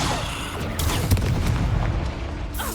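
A fire spell is cast in a wizard video game, giving a deep, booming whoosh with crackling bursts that rise and fall over a couple of seconds.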